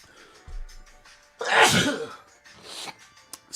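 A single loud sneeze bursts out close to the listener, with a quieter throat noise before it and a short exhale after, during a casual talk about football leagues in allergy season.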